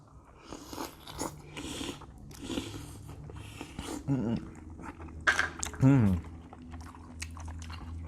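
Mussels from a seafood boil being eaten up close in a mukbang, with wet chewing, smacking and crunchy bites scattered through the clip; people talk and murmur in between.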